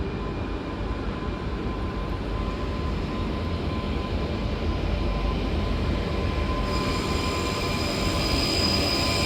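Idling train standing at Lisbon Oriente station with empty coaches, a steady loud rumble and hum with faint tonal whine throughout, no voices.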